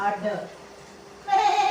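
A person imitates a goat's bleat in Tamil storytelling, a short voiced bleat rising clearly at the end after quieter talk-like sound, close and loud.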